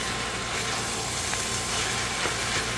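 Giniling stirred with tomato paste in a sizzling pan, a dense, steady frying hiss filling the whole stretch with faint stirring scrapes, close and fairly loud.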